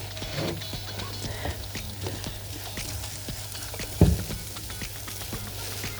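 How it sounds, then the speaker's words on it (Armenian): Onion sizzles steadily in a pan while frying for a buckwheat dish with quail and mushrooms; a close, even crackle runs throughout, with a single sharp knock midway. "Սոխ առածով տապակում։"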